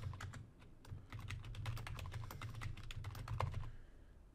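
Computer keyboard keys clatter in quick irregular bursts as a password is typed during virtual machine setup, close and moderately loud over a low steady hum, with no talking.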